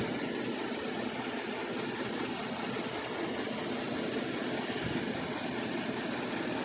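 A 2012 GMC/Chevy 5.3-liter V8 idles steadily, a continuous broadband engine hum with even low rumble, close and constant throughout with no talking.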